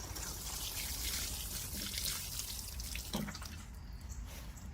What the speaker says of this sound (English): I'm going to water them in with a little bit of instant fertilizer